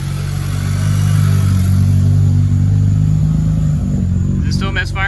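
A Cadillac ATS engine idles steadily and close after new spark plugs are fitted, a low, even rumble rising slightly as it settles, with a brief higher rattle near the end.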